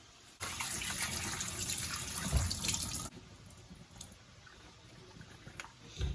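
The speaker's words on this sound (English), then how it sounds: "I'm going to go ahead and thoroughly wash them in the cold water" Cold tap water gushes into a sink while bell peppers are washed, a loud steady stream for a few seconds that then cuts to a quieter trickle with light splashes and handling sounds.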